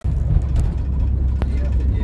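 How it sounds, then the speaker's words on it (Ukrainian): Riding inside a moving marshrutka minibus, with a steady low engine and road rumble filling the cabin and a few faint knocks and rattles, loud and continuous throughout. "Ми вже сидимо в маршрутці"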